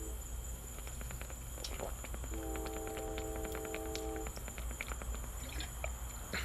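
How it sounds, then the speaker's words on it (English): Outdoors, a train sounds its horn in the distance as it passes: one steady, faint tone lasting about two seconds over a constant chorus of crickets and insects. "Y'all hear that train?"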